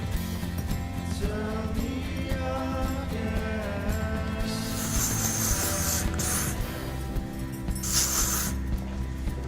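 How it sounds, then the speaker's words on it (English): Redken 23 hairspray sprayed onto hair during an updo styling, short hissing bursts heard over background music. "spray it with hairspray. This is the 23 from Redken."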